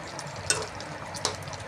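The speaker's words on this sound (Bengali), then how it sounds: "একটু ঘেঁটে দিলাম তরকারিটা যাতে ঘাঁটা ঘাঁটা হয়" A spoon stirs and mashes vegetarian curry in a pot over a soft, steady simmer, with two sharp clanks of utensil against metal about a second apart.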